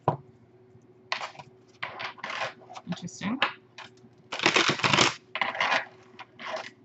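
Tarot cards being shuffled by hand during a reading, giving irregular bursts of papery riffling and slapping, close and fairly quiet, with a single spoken word between the bursts.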